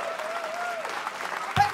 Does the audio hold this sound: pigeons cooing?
no